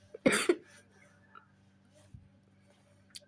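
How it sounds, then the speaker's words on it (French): A woman gives one sharp, close cough with a short second burst right after it, followed by quiet room sound and small faint noises. "Désolée, c'est la toux qui fait ça."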